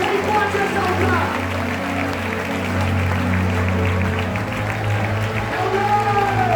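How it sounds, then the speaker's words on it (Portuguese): A church congregation applauds during a ministerial training service: a dense, continuous wash of clapping that holds steady throughout, blended with voices and background sound. "Quem pode aplaudir o nome dele?"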